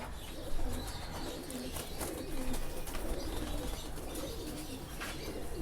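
A Silver Badshah breeder pigeon pair coos softly and repeatedly over a steady background hum, with low rolling calls recurring throughout and faint chirps and wing rustles now and then.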